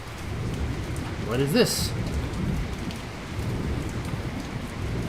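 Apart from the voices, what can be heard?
rain on the savannah in the video game Predynastic Egypt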